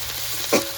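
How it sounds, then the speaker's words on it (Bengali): Ginger-garlic paste sizzles in hot oil in a pan and is stirred with one quick scrape, brief and close. The paste is for a ghugni masala. "আদা রসুন বাটাটা দিয়ে দিয়েছি এরপর নেড়ে চেড়ে নেব"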